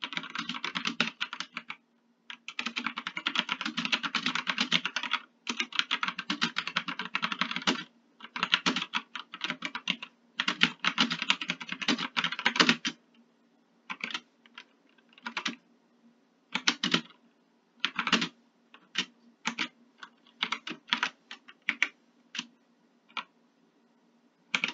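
Quick typing on a computer keyboard fills long dense runs of rapid clicking, then thins out into sparse single keystrokes and short bursts separated by silence, close and clear, with no voices.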